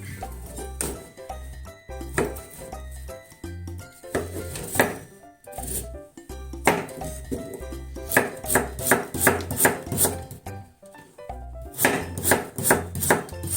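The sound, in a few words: thinly slicing an ingredient with a knife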